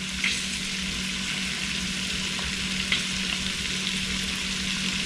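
Cajun-spiced shrimp fry in butter in a pan, producing a dense, even sizzle and crackle throughout, with occasional light spatula taps as pieces are turned one at a time.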